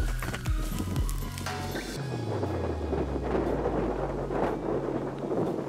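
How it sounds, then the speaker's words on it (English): Strong outdoor wind buffets the microphone during a landing, a steady broadband roar with gusty swells that takes over after a brief, lower tonal rumble at the start. "That's a good bit of wind."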